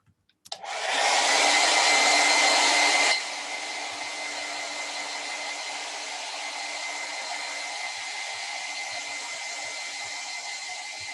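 A hair dryer drying wet paint switches on with a click and blows loudly, then drops to a lower setting and keeps whirring steadily.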